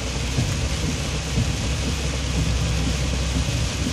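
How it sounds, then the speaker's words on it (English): Steady, dense rain falls outdoors, a continuous broadband hiss with low rumbling underneath, like a downpour heard from a vehicle or street. "It's raining outside,"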